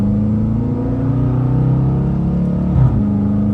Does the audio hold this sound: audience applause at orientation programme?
no